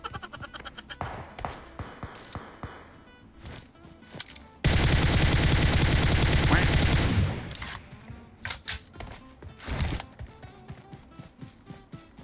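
Gunfire during a PUBG Mobile match: scattered sharp shots at first, then a sustained loud automatic burst lasting a few seconds, followed by more intermittent single shots and a short closing burst, no talking.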